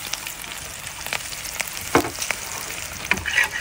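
Nigella seeds and chopped chili sizzle in hot oil in a pan while being stirred, a steady close fry crackle broken by a few sharper scraping clicks, with no talking.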